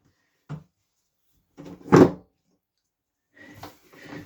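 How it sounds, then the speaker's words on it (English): Door and toilet lid on a narrowboat closing, heard as a few separate soft knocks and thuds with quiet gaps between them, the loudest bump coming in the middle and lighter clatter following near the end. "You can close your door, just pop into the toilet, open up the lid"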